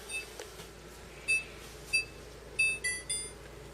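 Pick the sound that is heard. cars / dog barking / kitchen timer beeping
kitchen timer beeping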